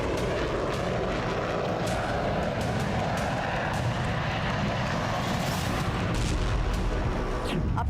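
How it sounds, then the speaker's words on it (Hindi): American F-35 fighter jets fly overhead with a loud, sustained roar of jet engines that fills the whole stretch, steady and rumbling with occasional sharper bursts, and no voices. "इन विमानों की पहचान F-35 के रूप में की गई।"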